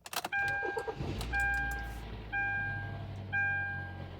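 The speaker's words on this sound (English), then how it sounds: "So I'm just going to go ahead and turn on the car" A wrecked SUV's engine cranks and catches, followed by a faint idle and repeated electronic dashboard chimes pinging at a steady one-second rhythm.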